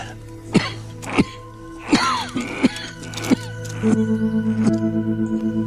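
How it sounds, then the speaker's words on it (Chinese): An elderly man coughs in a quiet room at night, several separate harsh coughs and throat-clearing bursts spaced a second or so apart, close and fairly loud over a low steady hum. "你的咳嗽还没好"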